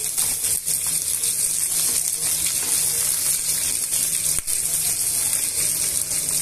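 Onion and green chilli pieces fry in hot oil for a masala curry, a steady close hiss and crackle that holds loud and unbroken throughout.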